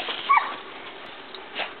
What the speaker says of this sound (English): You're a bad dog